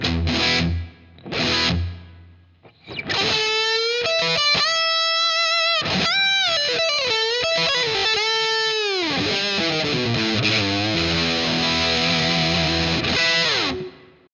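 An electric guitar, through a Revv Generator amp with Two Notes Torpedo, plays distorted, sustained notes and bends in a Steve Vai style with a spacious reverb tail, loud and up front, with brief pauses between phrases.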